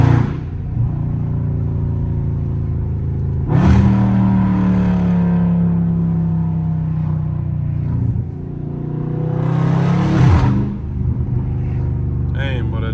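A Dodge Scat Pack engine in track mode rumbles loud and close. It revs up sharply during downshifts, holds a steady droning tone, and then blips again.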